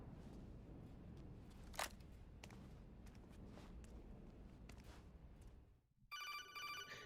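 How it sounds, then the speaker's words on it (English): Codec call alert from the video game Metal Gear Solid 2 starts near the end as a bright, repeating electronic ringing pulse. Before it come quiet game background noise and a brief sharp click. "More phone calls!"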